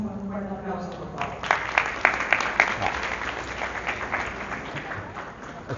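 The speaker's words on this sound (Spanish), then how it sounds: "Lo recibimos con un fuerte aplauso, por favor." Applause from a seminar audience welcoming a lawyer and lecturer to the stage at a business compliance event in Bolivia, steady clapping building to a moderate level and continuing throughout under a faint hum of the room.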